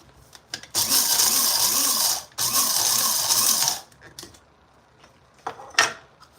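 Coffee beans are being ground coarse in a grinder, with two loud, rattling mechanical bursts of about a second and a half each, a short pause between them, then a few faint clicks and shakes afterward.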